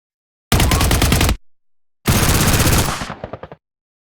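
Rapid-fire machine gun sound effect in two loud bursts of fast, evenly spaced shots, the second burst trailing off into a few spaced final rounds.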